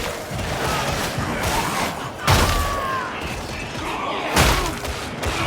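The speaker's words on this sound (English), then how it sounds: "Commencing volley fire!" Volley gunfire in Warhammer 40K Darktide lands as two heavy booming blasts a couple of seconds apart, each with a thudding low rumble, over continuous loud battle din and rattling mechanisms.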